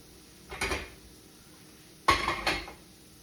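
Metal baking trays and pans clatter as they are rummaged through in a kitchen cupboard, two close bursts of rattling clanks separated by a pause.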